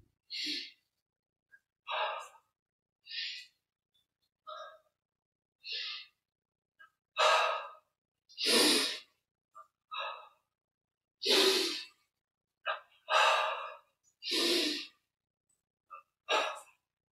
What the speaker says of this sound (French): Une grande respiration.